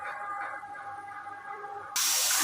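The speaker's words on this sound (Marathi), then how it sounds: "इसके बाद भाजी फ्राय करूया भाजी" Vegetables frying in a pan for shole matar and aloo sabzi, a steady hiss and sizzle that jumps abruptly louder near the end, close and continuous with no talk.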